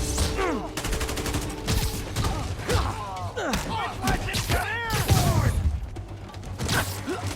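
Enemy gunfire in Marvel's Spider-Man Remastered, with repeated shots and thuds in a busy fight mixed with whooshing swings, impacts and game music. It plays loud and continuous for the whole stretch.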